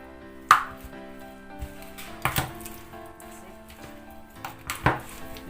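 A utensil scrapes and clinks in a bowl as salt, black pepper and sesame oil are stirred into a seasoning mix for Korean fried chicken, with a few sharp knocks spaced over a quiet background.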